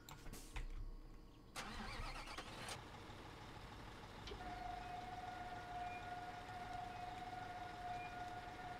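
A truck engine cranks and starts in Construction Simulator 2015, a brief starter grind followed by a steady mid-pitched idle rumble with a thin whine, and no voices.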